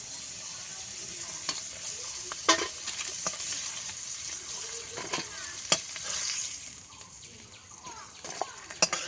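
Crab frying in oil in a home kitchen while being cooked red, a steady close sizzle with repeated scraping stirs and clinks, and a voice speaking briefly.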